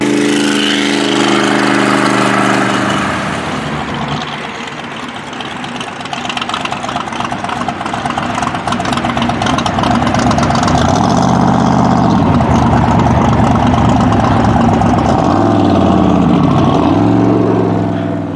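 A 2022 Hot Rod Drag Week street convoy near Brownsburg, with a loud, steady engine drone from the hot rod that rises and falls through the gears as it cruises the road, no voices present.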